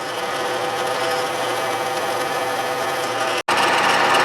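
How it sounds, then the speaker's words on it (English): A steady, close grinding whir of a Craftsman metal lathe center drilling metal, continuous and even, with a brief cut-off near the end before resuming. "All right, let's center drill."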